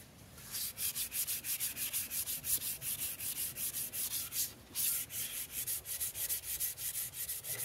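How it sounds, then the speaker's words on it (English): A hand-carved ash axe handle is sanded by hand in quick, rhythmic back-and-forth strokes, a close, hissing rasp repeating about three times a second with one brief pause, steady and without speech. "That's what I'm thinking at the moment while I'm sanding."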